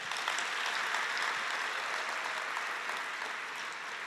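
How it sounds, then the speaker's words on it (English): A seated audience at a university vice-chancellor's welcome ceremony claps in sustained, even applause that holds steady for several seconds before tapering slightly, with no voices over it. "Another warm round of applause."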